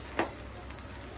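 Food shallow-frying in a small amount of oil, a soft continuous sizzle with one brief crackling burst near the start, no voices.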